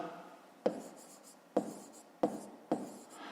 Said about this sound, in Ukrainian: У дужках записуємо чого кілограм.